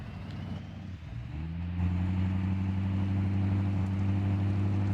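A brand new semi truck in Farming Simulator 19 starts up and settles into a loud, steady low diesel engine drone, its pitch firming up after about a second and a half and holding constant.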